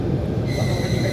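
A summer passenger train between Syzran and Samara, heard from inside the carriage, rolls with a steady low rumble, joined partway through by a thin, sustained metallic whine.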